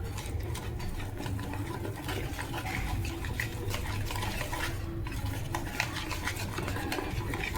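Vada batter being stirred and mixed by hand as water is added a little at a time, a steady wet churning and scraping that runs continuously and fairly close, with no talking.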